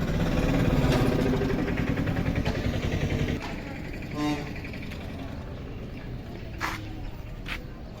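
Engine of a vehicle travelling the road from Madurantakam to Thirukazhukundram, a steady rumbling drone that is loud at first, then drops to a lower, steadier hum with a few brief higher noises.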